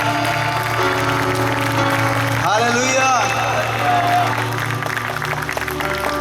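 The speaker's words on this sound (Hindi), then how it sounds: "ताली भी एक आराधना है।" Congregation clapping during a New Year's Day worship service in Vadodara, Gujarat, a steady patter beneath loud preaching voices and sustained musical tones.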